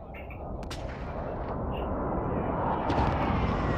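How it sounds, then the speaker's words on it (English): Explosions from a precision airstrike in a first-person shooter video game roll out as dense, rumbling booms with sharp cracks layered over continuous low noise. No voices are heard. "Allied precision airstrike incoming"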